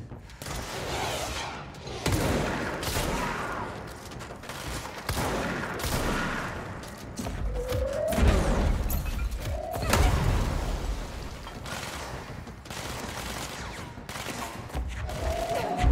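Enemy rocket fire in the video game Control: repeated loud blasts and thuds in an ongoing barrage, with dense gunfire-like bursts throughout and a few rising whooshes.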